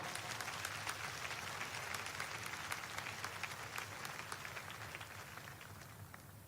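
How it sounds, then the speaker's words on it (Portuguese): A church congregation clapping at a sermon by Pastor Jimmy Swaggart, a faint, even wash of many hands applauding from a distance for several seconds. "pode glorificar ao Senhor com palmas"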